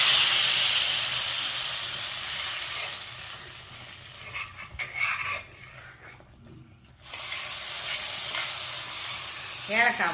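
Cashew nuts fry in ghee in a pan alongside curry leaves, giving a steady close sizzle and hiss that swells and fades as the pan is stirred, with a brief lull midway.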